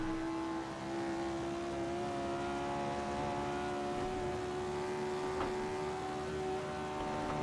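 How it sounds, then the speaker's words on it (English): A classic Lotus Formula 1 car in Assetto Corsa, racing the 1966 Spa circuit, holds a steady high-pitched engine whine pinned at the rev limit, loud and continuous with no voices. "Right on the rev limit."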